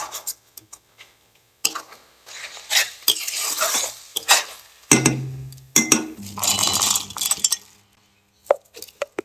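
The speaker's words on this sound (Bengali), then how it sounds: "তো মশলা কষানো হচ্ছে" Masala being sautéed with tomato sauce in a pan for a wedding-style chicken roast, with irregular scraping, clinking and stirring sounds of a metal utensil against the pan in bursts, loud and close, no talking.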